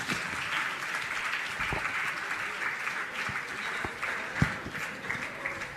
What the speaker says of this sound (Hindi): आप लोग तालियों में कंजूसी नहीं करेंगे।